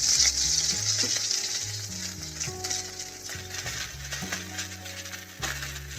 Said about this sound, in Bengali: কালো জিরেটা অল্প হয়ে আসলে আমি তাতে ঝিঙেগুলো ছেড়ে দিলাম।